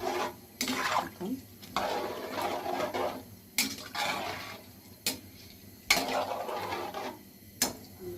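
A spoon scrapes and stirs bamboo shoot and prawn curry in a pan, soft and fairly faint, with repeated strokes and occasional light clinks against the metal and a little speech.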